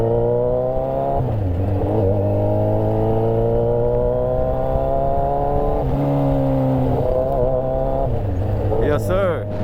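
A first-generation Suzuki Hayabusa roars up an expressway on-ramp, its engine climbing through the gears in long rising pulls with brief dips at each shift, loud and close with wind rush throughout.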